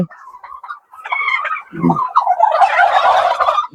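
Turkeys on a turkey poultry farm with egg-laying hens give repeated close, loud gobbles, with a brief low call partway through and a burst of overlapping gobbling near the end.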